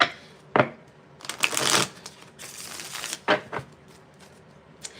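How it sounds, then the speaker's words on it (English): Tarot cards being shuffled in several quick riffling bursts, crisp and close, with short pauses between them and no talking. "we're going to shuffle them"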